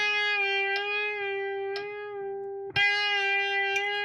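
A smooth, sustained electric guitar note with gentle wavy string-bend vibrato, re-picked roughly once a second in an even rhythm, clear and close with no talking.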